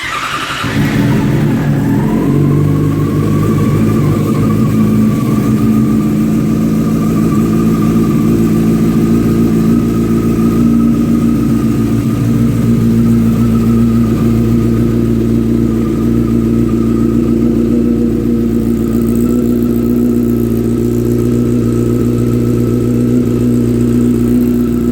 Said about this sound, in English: Bike turns on, so that means there is power to the engine.